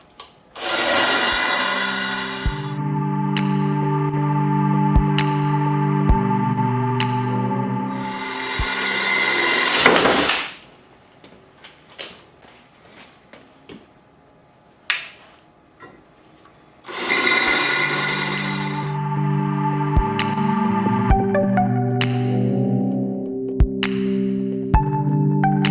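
A drill bores holes through a custom front fender on a Suzuki GS550 cafe racer. Two long whining drilling passes are loud and close, separated by a quieter stretch of small clicks and handling noises, with no talk.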